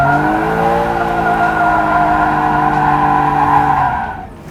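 Car drifting on a track with tires skidding and squealing in a long sustained scream over a steady high engine drone, loud and close, fading out at the end.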